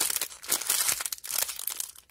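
A small plastic packet crinkles and crackles up close as it is handled and opened, a dense run of sharp rustles over about two seconds with no voices.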